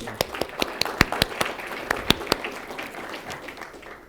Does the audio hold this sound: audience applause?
yes